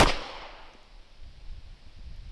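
Single handgun shot fired from a draw on a shooting range, a sharp loud crack at the very start that decays quickly into a low rumbling tail.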